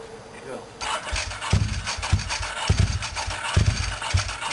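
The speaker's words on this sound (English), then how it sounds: "Start her up. Start your engine." An engine on what appears to be a Ducati motorcycle cranks repeatedly with rhythmic starter churning and sputters as it tries to catch, loud and close, while people talk over it.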